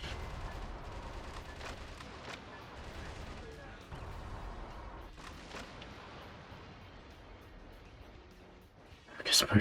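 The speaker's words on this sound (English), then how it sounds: "If you aim and fire, you should be able to easily shoot them down." Dense bursts of gunfire and explosions from the mech action game Metal Wolf Chaos XD, rapid repeated shots at moderate volume with a louder blast at the end, mixed under occasional talk.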